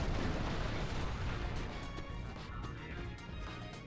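S-bombs blast against a standard wall in Final Fantasy X-2, a dense rumbling roar of several explosions running together at moderate loudness with no talk.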